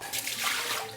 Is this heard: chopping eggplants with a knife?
no